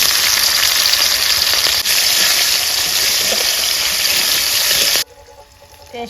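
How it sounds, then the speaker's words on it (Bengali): Chopped onion hitting hot oil for egg curry, giving a loud, steady sizzle and crackle that holds for about five seconds, then drops suddenly to quiet faint stirring. "এখন পেঁয়াজ কুচিটা দিয়ে দিলাম।"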